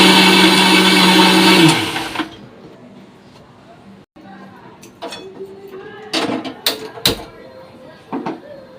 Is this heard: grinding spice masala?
yes